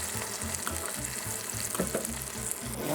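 Steak sears in a pan for Sichuan steak au poivre, a steady close sizzle with crackling spatters and a rhythmic low bubbling pulse underneath, no talking.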